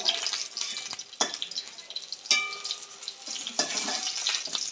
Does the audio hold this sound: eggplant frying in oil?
yes